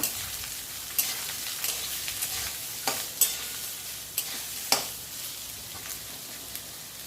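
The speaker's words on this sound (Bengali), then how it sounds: "তো আগে গাজরটা ভেজে নেব।" Chopped carrots fry in a pan over the stove, a soft steady sizzle with occasional sharp scrapes and knocks of a spatula stirring the pieces, fairly quiet and with no talking.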